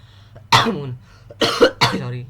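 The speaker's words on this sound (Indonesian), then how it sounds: "sorry ya teman-teman, agak batuk" A single sharp cough followed by two more quick coughs close to the microphone, in an otherwise quiet room.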